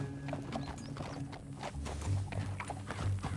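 Horse hooves clip-clop at a steady rhythm in Red Dead Redemption 2, close and moderately loud, with low music or ambience running underneath.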